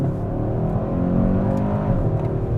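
A 2021 Hyundai Sonata N Line engine drones steadily from inside the cabin during a manual paddle gear shift, a low, even hum with no distinct revving spike and no talking.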